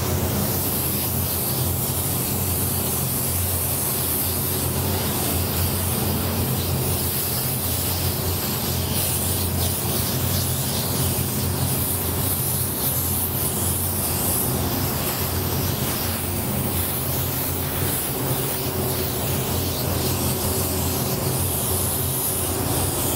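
A spray gun lays a medium wet sealer coat onto a powder-coated wheel, giving a loud, continuous airy hiss that runs unbroken and close for the whole stretch, with no voices.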